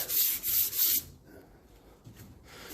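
Hand sanding on the painted tub of a Land Rover being prepped for respray: three quick rough rubbing strokes up close, followed by quieter scuffing and faint handling noise.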